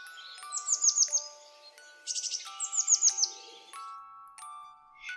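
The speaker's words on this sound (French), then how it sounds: "Le soleil brillait, les oiseaux chantaient." Birds sing in a sound effect for a woodland story, with clear bright chirps and quick descending trills in short repeated bursts, close and alone without talk.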